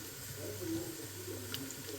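Water runs steadily from a tap into a bowl of cut potato and eggplant strips set to soak, a soft continuous splashing under a low hum, with a faint clink near the end.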